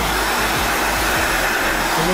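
A hot air tool blows continuously at close range, heating the metal under flexwatt heat tape to loosen it, a steady loud whooshing hum with no talk.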